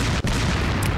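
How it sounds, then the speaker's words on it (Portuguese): Bombs exploding in the video game Resident Evil 4, a dense, loud, continuous rumbling boom filling the whole second with one brief dip. "Olha porque o som tá tão alto das bombas."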